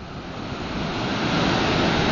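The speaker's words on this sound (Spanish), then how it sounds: "Allí al fondo han saltado unas olas grandísimas" Large waves breaking at Playa del Saler beach, a steady, continuous roar of surf mixed with wind rush, slowly building in loudness with no voices.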